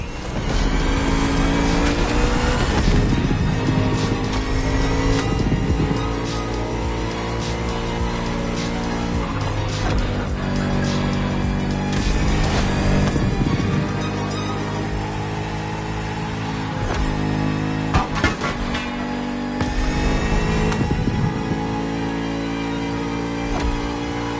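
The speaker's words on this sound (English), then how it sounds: "The Bugatti Vision GT." A Bugatti Vision GT in The Crew Motorfest roars through repeated gear changes, its engine revving hard and dropping between shifts, loud and close, with brief tire squeals along the way.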